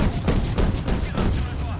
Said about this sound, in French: On subit des tirs en provenance de la station-service.